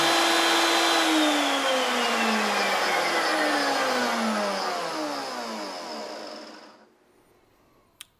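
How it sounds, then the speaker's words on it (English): A router spins a bit that slowly cuts its own zero-clearance profile into the wooden face of a router table fence, a loud steady whine that falls away as the motor is switched off and spins down, ending in a small click. "So I'll turn on the router and slowly advance that face into the bit until the bit cuts its own zero clearance profile in the front."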